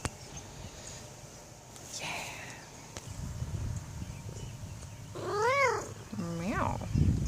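A cat meows twice near the end, distinct wavering cries against a quiet garden background, with faint talk and rustling earlier.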